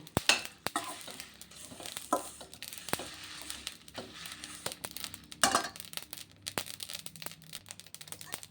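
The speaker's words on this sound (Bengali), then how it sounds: "দেখুন এইভাবে যখন ফুটফুট করে ভাজা আওয়াজটা আসবে" Achar masala spices dry-frying in a pan for pickle seasoning, a steady crackling sizzle with scattered sharp pops and occasional stirring scrapes, close and fairly quiet, no talking.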